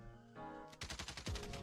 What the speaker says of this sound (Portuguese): Deu dois tiros sem mira ali